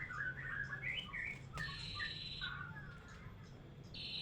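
A songbird kept in captivity gives a quick series of bright chirps and short trills, fairly faint, over a background hum of insects.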